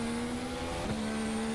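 A McLaren Honda Formula 1 race car in the video game F1 2018 holds a steady, high engine drone with a brief rise in pitch partway through, heard close and alone.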